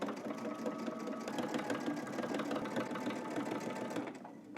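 A sewing machine runs steadily as it stitches in the ditch along a jeans waistband, a close, continuous rapid whirring hum with even mechanical ticking.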